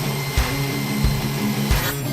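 A Euroboor ECO.30 magnetic drilling machine with a 900-watt motor runs with a steady, close mechanical whir and hum, marked by a few brief low thumps at regular intervals.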